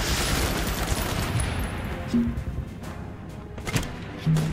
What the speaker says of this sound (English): let's drop a missile on that guy